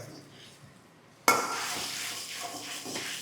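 Veg manchurian mixture with soy sauce and vinegar gets stirred in a pan, with a sudden clatter of a utensil followed by continuous scraping, sizzling mixing sounds, close and fairly loud after a quiet start.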